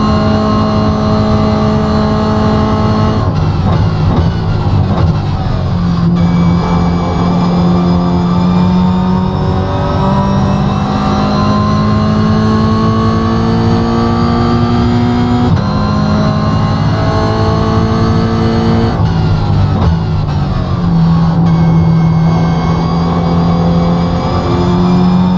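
A Toyota GR86 engine lapping Mount Panorama in the iRacing sim, loud and continuous, climbing through the revs again and again with several distinct upshifts over a long stretch.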